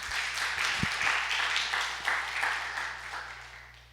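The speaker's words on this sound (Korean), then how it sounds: "하나님께 박수 합시다" A church congregation claps together in warm, sustained applause that slowly fades, with a low hum underneath and no speech.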